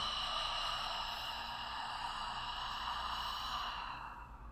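A long, deep exhale during a breathing exercise, a steady close breathy rush that fades slightly at the end.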